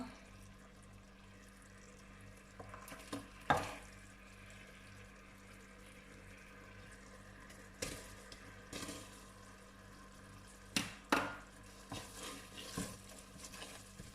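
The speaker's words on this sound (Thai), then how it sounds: "ผัดพริกแกงกับ กะทิให้เขา ละลายให้หมดเข้ากันก่อน" Red curry paste fries with coconut milk in a large pot for chicken massaman curry with pumpkin, a faint, low bubbling sizzle broken by several louder stirring scrapes and knocks.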